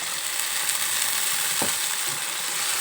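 Onion, tomato and flat beans fry in a pan with a dense, steady sizzle and hiss. A single soft knock of a spoon stirring cuts in once, and there is no talk.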